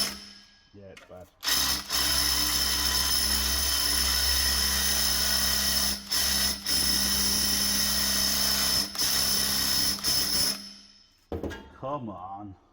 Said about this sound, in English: This drill bit's really bad.